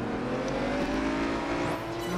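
A car revving hard as it races past in Project Gotham Racing 4, a BMW closing in from behind, with loud continuous engine whine and a rising pitch near the end.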